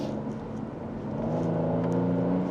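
A 2021 Genesis G80 3.5T AWD in sport mode gives a smooth, steady engine hum heard from inside the cabin, with the tone firming up and rising slightly as the car accelerates.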